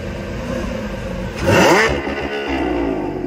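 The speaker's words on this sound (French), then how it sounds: "Il nous a fait un coup là de plein gaz au point neutre pour nous choquer" A car engine roars as the throttle is blipped hard in neutral while stationary on a New York street, the revs climbing sharply and falling back over a steady idle rumble.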